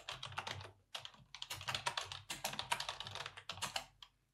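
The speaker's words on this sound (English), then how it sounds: "I just type NordVPN connect" Rapid bursts of key clicks on a computer keyboard as a connect command for a VPN is typed, close and clear with brief pauses between runs of keystrokes.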